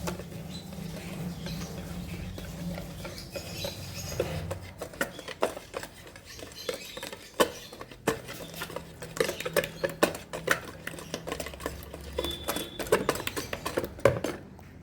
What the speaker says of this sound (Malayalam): ഇനി ഇത് നമ്മൾ ഒരു വിസ്ക് വെച്ചിട്ട് നല്ല പോലെ ഒന്ന് മിക്സ് ചെയ്ത് വയ്ക്കാം.